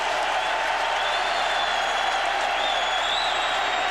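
A large stadium crowd at a 1999 Clemson vs Virginia college football game roars in a dense, sustained wall of cheering and applause, with a few whistles rising above it.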